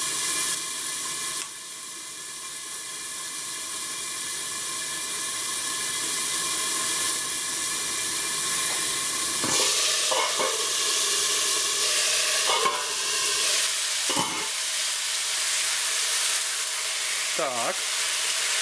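Steaks Parisienne fry in an Etalon roasting pan with a loud, continuous sizzle and hiss. The sizzle swells over time, broken by several brief scraping stirs or turns of the meat near the end.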